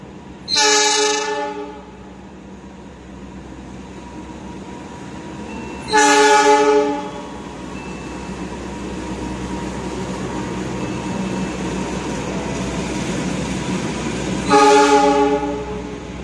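The Argo Parahyangan train runs straight through a station on track 3 without stopping, its loud horn sounding three times over a steady rumble of passing wagons.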